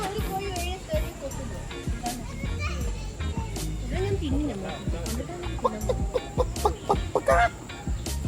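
Chickens cluck in short, repeated bursts at a zoo in Malaysia, mixed with the chatter of children and other voices nearby.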